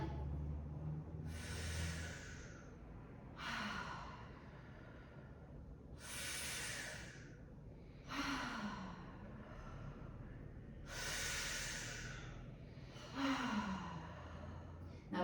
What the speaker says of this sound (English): we're going to exercise the belly breathing, and we're going to start with the mouth first